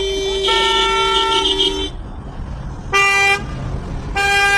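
A vehicle horn on a road blares in long sustained toots, a first blast lasting nearly two seconds, then two shorter loud honks after a brief pause, close and prominent over faint traffic rumble.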